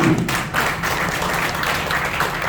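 Audience applause at a music festival inaugural ceremony in Mandleshwar, a dense steady patter of many hands clapping close by, continuing evenly for a couple of seconds with no talk.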